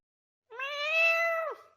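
A person imitates a cat with a single drawn-out meow, rising at the start and dropping sharply at the end, loud and close with no other sound around it.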